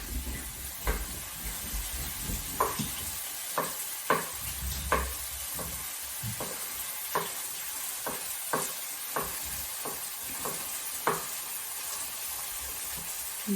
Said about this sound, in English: start cooking up some mushrooms